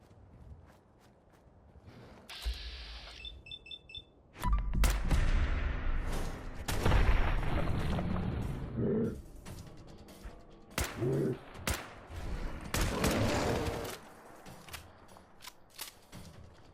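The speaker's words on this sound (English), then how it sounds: "And this is what the rifle can do, while still only at level 11." Rifle shots crack through a Fallout 4 battle, several sharp loud blasts spaced irregularly among game clatter and movement sounds, with no talking.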